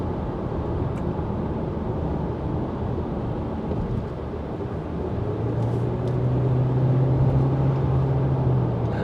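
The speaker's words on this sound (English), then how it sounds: "I can definitely hear the engine." An MG SUV with a dual-clutch gearbox under load: a steady low engine drone, broadband and continuous, rising slightly in strength toward the end with a faint tonal whine appearing.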